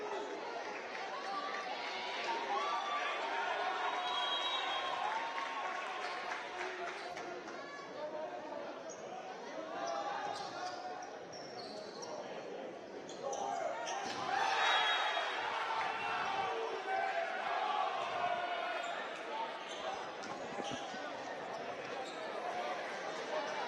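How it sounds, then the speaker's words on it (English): A packed high school volleyball playoff crowd in the Milford gym, a steady roar of cheering and chatter throughout with sneaker squeaks and ball thumps, while a commentator talks over it. "We have not seen a crowd like this here in the Milford gym in quite a long time."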